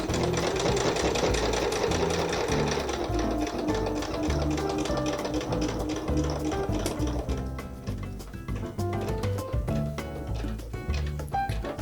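A sewing machine stitches fabric for an elephant plushie, its needle chattering loudly and continuously up close, with slight shifts in pace as it works around curves.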